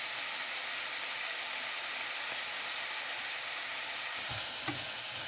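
Onions fry with turmeric in hot oil for a rajma curry, giving a steady, continuous sizzle with a couple of faint clicks near the end.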